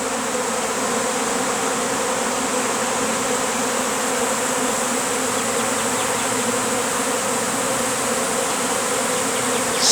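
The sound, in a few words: honeybee swarm leaving a hive box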